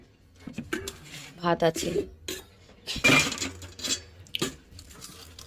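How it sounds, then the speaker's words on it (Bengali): Steel dishes, pots and utensils being washed in a home kitchen clink and clatter in irregular bursts of metallic knocks and rings, with someone talking over the clanking. "এ দেখো সব বাসন মাজবো"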